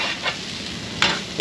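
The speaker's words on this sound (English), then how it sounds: "This delicious dish cooked on a hot griddle plate." Sri Lankan street food sizzles and fries on a hot griddle plate, a steady close hiss broken by a few sharp bursts as the food is stirred and chopped, with no voices.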